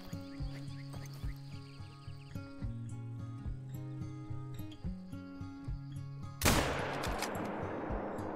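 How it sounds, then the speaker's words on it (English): A single rifle shot fired at a giant gray fox while hunting small game along the Mississippi River in Call of the Wild, a sharp loud blast over quiet looping game music, followed by a lingering noisy tail. "we made an awesome shot on that giant gray fox there"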